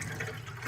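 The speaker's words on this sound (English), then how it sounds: "Here's our cold water's on." Cold water runs steadily from a tap after the house supply is restored following a copper pipe leak repair, a short, continuous, fairly quiet rush of flow with no voices.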